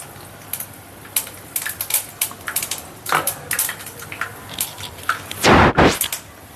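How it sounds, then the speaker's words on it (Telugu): Tempering seeds dropped into hot oil used for frying prawn curry, a scattered series of sharp pops and crackles of varying loudness, with a louder sizzling burst near the end. "అదే నూనెలో అయితే కొంచెము తాలింపు గింజలు అయితే వేసుకుందాము."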